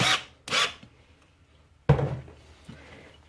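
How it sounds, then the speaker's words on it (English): A cordless drill set to its torque setting tightens a hose clamp during a pump install, giving two short whirring bursts and then a longer one with a thunk, close, separated by quiet gaps. "If your drill has a torque setting, I recommend using that, which I do."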